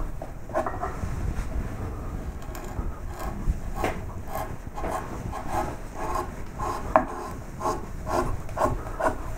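A hand chisel carves gadroon moulding in wood with a series of close, rhythmic scraping and rasping strokes, each a short soft rub, repeating steadily with no voices.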